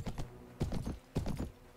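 Camel hoofbeats while riding in the video game Mount & Blade, a steady galloping clip-clop in repeated triplet bursts, fairly close and unaccompanied by talk.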